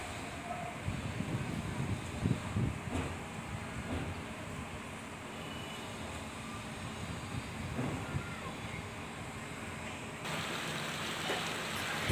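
Steady broadband rain hiss fills the clip, a dense continuous downpour with occasional gusts of wind rising and falling beneath it.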